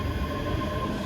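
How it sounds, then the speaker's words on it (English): A ScotRail train pulls away at Haymarket station in Edinburgh, a brief, steady rumble of wheels and motor with a faint squeal, close and constant. "Off goes the 1349 ScotRail service to Glasgow Queen Street from Edinburgh Waverley"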